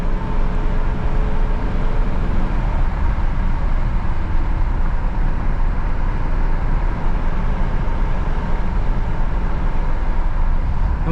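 A 2009 Dodge Challenger SRT8 with a six-speed manual pulls hard through its gears on a night drive, a dense, continuous roar of engine and road noise that stays loud and steady throughout.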